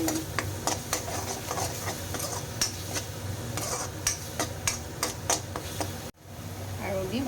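Tomato paste and turmeric stirred in a pan for a prawn malai curry, a quick regular series of spoon clicks and scrapes against metal over a soft sizzle, close, then a brief pause before the frying resumes.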